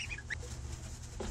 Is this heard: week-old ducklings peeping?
yes